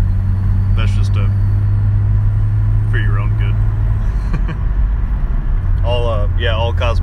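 Mazda Cosmo rotary-engined car with an aftermarket exhaust, a steady loud low drone while cruising, continuous throughout with people talking over it in bursts.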